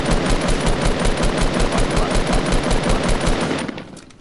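Sustained automatic gunfire from a PS4 video game hammers in a fast, even rhythm, loud and close, for several seconds before cutting off abruptly near the end.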